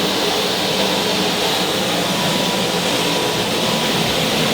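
A private jet's engines give a steady, loud, broadband roar that holds unbroken for the whole stretch, with no voices over it.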